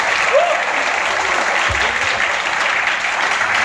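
An audience gives a warm round of applause welcoming parents, sustained dense clapping filling the room with a brief low thud partway through, no speech.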